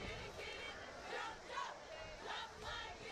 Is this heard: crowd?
yes